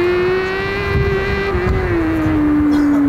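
A Tamaha and a Smart Roadster lapping a race track, with a steady loud engine drone whose pitch slowly falls, a continuous close motor whine with wind noise and no talk.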